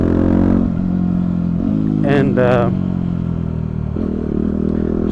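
A carbureted motorcycle engine idles and runs steadily, its low harmonic drone filling the whole stretch with a brief rev in the middle, while someone speaks over it.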